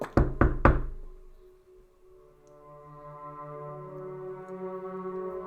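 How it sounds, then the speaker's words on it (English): Three quick, loud knocks on a door ring out close by, followed by a soft, sustained, humming tone that slowly swells. No one speaks. "So you make the sound of a knock on the door."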